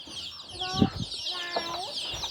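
Chickens cluck close by in a rural Thai setting, several short calls scattered over steady insect-like buzzing and background noise, with a few quiet murmurs.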